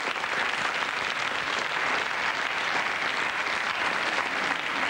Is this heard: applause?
yes